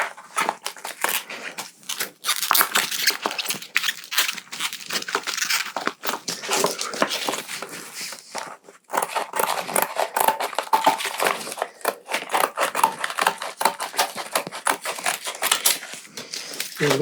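Scissors crunch and snip through a stiff A2 plastic file sheet, cutting it in half with a long run of close, crackling cuts and brief pauses between strokes.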